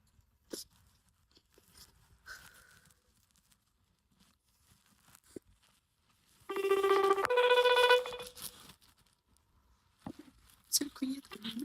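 A telephone rings with a short burst of electronic ringtone tones in a quiet room, preceded by faint rustling and brief soft sounds.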